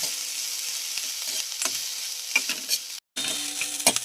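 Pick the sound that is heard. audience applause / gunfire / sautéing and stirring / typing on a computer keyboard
sautéing and stirring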